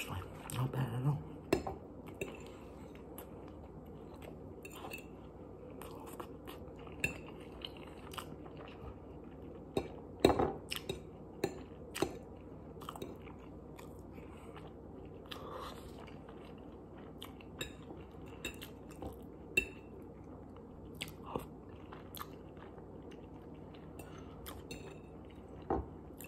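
Someone eats chicken tempura with broccoli and rice, producing quiet close bites and chewing with scattered soft clicks and clinks, sparse and irregular over a low background.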